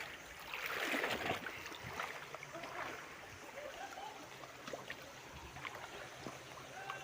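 A river runs at a scenic spot in Mizoram where vehicles are brought to be washed. The water flows with a soft, steady rush and some splashing. It is fairly faint and distant, and no one speaks.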